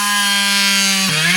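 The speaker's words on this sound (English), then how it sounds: "So if you go inside with your drill, you can just drill a little hole in there." A small power drill bores a little hole in a metal charm, whining loudly at a steady pitch, then briefly dipping as the bit bites before recovering; no talk.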